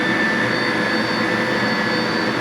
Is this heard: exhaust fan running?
yes